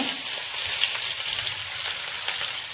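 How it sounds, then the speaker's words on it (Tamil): Long-sliced medium onions fry in hot oil for Hyderabadi chicken dum biryani, a dense, even, close crackling sizzle that holds steady throughout with no voices. "3 மீடியம் சைஸ் வெங்காயத்தை இந்த மாதிரி நீட்டாக கட் பண்ணி எண்ணெயில் போட்டு பொரிச்சு எடுத்துக்கோங்க"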